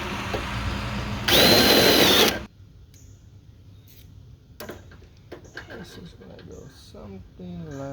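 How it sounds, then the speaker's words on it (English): A power drill bores a hole in a Radio Flyer wagon during a brake upgrade, a loud whirring burst lasting about a second, followed by quieter clicks and knocks while someone talks. "Go ahead and drill that up a minute."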